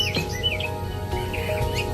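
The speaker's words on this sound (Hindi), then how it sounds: "सुबह सूरज निकला, चिड़ियाओं चहचहाई।" Morning birds chirp and tweet in short bright calls, several overlapping song phrases over a soft background hum.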